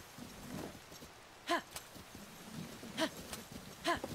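Horse hooves in Zelda: Tears of the Kingdom: three or four separate, soft hoof thuds spaced over a few seconds, faint and fairly close, over a quiet background.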